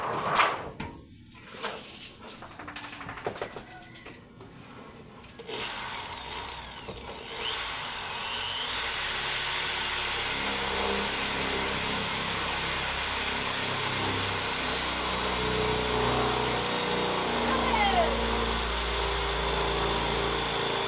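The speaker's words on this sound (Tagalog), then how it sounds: "Barena na naman tayo ng panibago guys." A power drill bores holes for a new clothesline, starting with a few quieter handling noises and short bursts, then running as a loud, steady high-pitched whine from about seven seconds onward.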